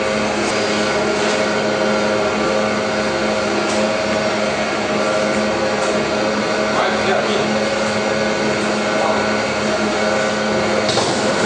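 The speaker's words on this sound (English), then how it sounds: "The machine is now cut it into individual pieces, and now the bagel itself is coming out, the raisin bagel." A bagel-making machine cuts and shapes raisin bagels, giving off a continuous loud mechanical whir and hum with faint intermittent clatter, and no talking over it.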